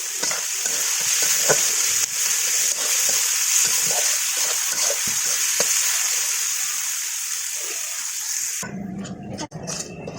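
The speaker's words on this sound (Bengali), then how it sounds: "আমার পেঁয়াজ কিন্তু প্রায় ভাজা ভাজা হয়ে গেছে।" Chopped onions frying in oil with whole garam masala and bay leaves, nearly browned; a loud, constant sizzle with repeated stirring scrapes and clinks, ending abruptly with a short quieter stretch of handling noise.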